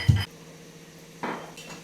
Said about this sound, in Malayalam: ഈ മൂന്ന് ഏലക്കായും ഈ ഒരു കഷ്ണം ഇഞ്ചിയും കൂടെ ഇതിനകത്തോട്ടങ്ങ് ഇട്ടിട്ടുണ്ടല്ലോ ഇത് നന്നായിട്ടൊന്ന് ചതച്ച്